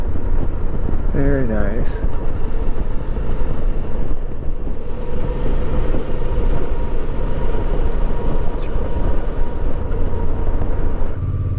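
Motorcycle ridden along a canyon road near Red Canyon in Utah late in the day, with a steady, close engine drone and heavy wind rush throughout, plus a brief spoken remark near the start.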